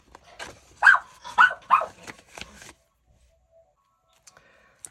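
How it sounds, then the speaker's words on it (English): A dog lets out a burst of several rough, growly barks close by, then falls silent apart from a few faint clicks. "I just paused while she had her barking fit"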